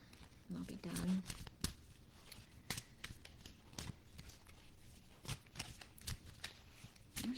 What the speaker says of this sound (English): My shuffling skills today are just not hitting on a whole lot